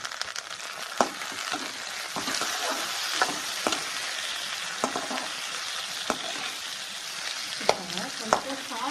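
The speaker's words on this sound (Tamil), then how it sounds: "இப்போ வெங்காயம் நல்லா வதங்கிடுச்சு. இப்போ வந்து தக்காளி ஆட் பண்ணுவோம்." Onions and tomatoes sizzle and fry in a pan for a mixed vegetable masala, a steady close crackling hiss broken by regular scrapes and taps of a spoon stirring, with no talking.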